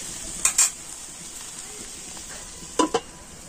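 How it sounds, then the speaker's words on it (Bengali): Cabbage patori being stirred in a pan, with two pairs of quick metallic clinks from the utensil and lid against a faint steady sizzle, no talking. "আমি একটু নাড়াচাড়া করে আবারও একবার ঢাকা দিয়ে দিচ্ছি"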